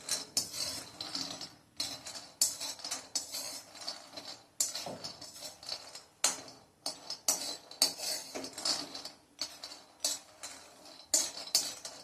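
Almonds dry-roast in a pan under constant stirring, a rapid series of close rattling scrapes and clinks of spoon on metal, bursts repeating irregularly with brief quiet gaps.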